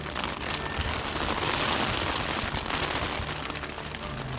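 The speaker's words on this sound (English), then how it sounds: "So we got thunder, lightning, hail." Heavy rain mixed with hail drumming steadily on a tent during a mountain thunderstorm, a dense, close, continuous hiss and patter with no voices.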